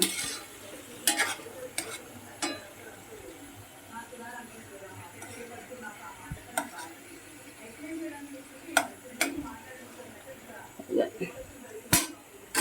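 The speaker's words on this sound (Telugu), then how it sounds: "కొంచెం పన్నీర్ వేపుదాం చక్కగా వేపుతుంది చూసారా" Paneer frying lightly in a pan gives a faint, quiet sizzle, broken by scattered clicks and scrapes of a utensil stirring against the metal, with someone talking over it.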